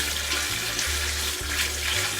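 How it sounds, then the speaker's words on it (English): Tap water runs from a kitchen faucet while a spoon is washed during home cooking of Jamaican curry shrimp, a steady close hiss with a few soft clinks and changes in the flow, and no talk. "Remember to always wash your spoons."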